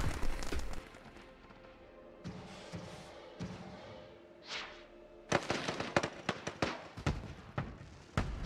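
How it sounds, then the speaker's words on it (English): Fireworks in the theme-park game Planet Coaster go off in scattered bursts and crackles, quiet at first and then a dense run of sharp pops and bangs in the second half, with no talking over them. "Oh, fireworks time."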